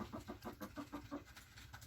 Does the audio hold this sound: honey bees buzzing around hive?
no